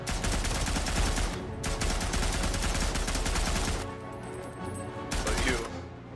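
Maxim machine gun in the World War I shooter Isonzo, firing long continuous bursts of rapid, loud, rattling shots with brief pauses between, amid dense battlefield noise.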